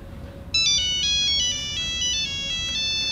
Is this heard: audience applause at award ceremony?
no